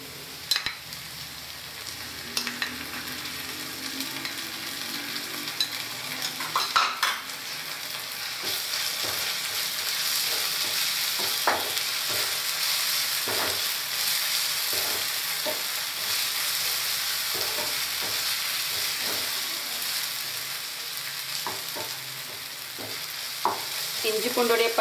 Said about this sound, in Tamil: இனிமேல் இதில் நம்ம அரைச்சி வச்சிருக்க இஞ்சி பூண்டு மிக்ஸ் பண்ணுவோம்.